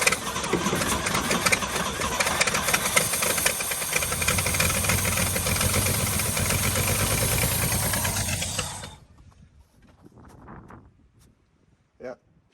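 An abandoned 1962 International Harvester farm truck engine runs with a rough, steady mechanical clatter for several seconds, then shuts off, leaving quiet with a brief knock near the end.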